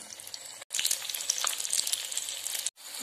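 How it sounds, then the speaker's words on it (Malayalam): Egg-dipped cauliflower pieces frying in hot oil, a steady crackling sizzle that fills the whole stretch, broken by two brief silent gaps near the start and end, with no voices. "ഇപ്പോൾ നമ്മുടെ കോളിഫ്ലവർ വറുത്തോണ്ടിരിക്കുകയാണ്."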